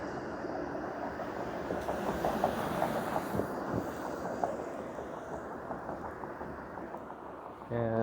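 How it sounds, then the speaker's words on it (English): A 506 Carlton streetcar rolls past on a quiet night street in Toronto's Roncesvalles Village, a faint steady rumble with light rail clicks and squeals, and a voice talks briefly at the end. "There goes a 506 Carlton streetcar."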